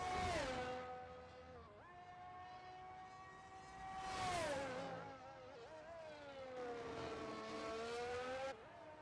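A McLaren race car engine in a racing video game, a high-pitched whining engine rising and falling through gear shifts, loud and continuous without talk.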